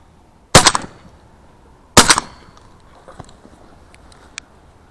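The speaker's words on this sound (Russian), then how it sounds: "Два раза выстрелил." Two loud shotgun blasts while duck hunting in autumn, about a second and a half apart, each with a sharp crack and a short outdoor echo, followed by faint scattered sounds.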